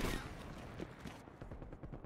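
Gunfire in Call of Duty: Black Ops Cold War on the Nuketown map, a burst of rapid shots up front followed by scattered, overlapping reports that keep going at a steady moderate level, with no speech.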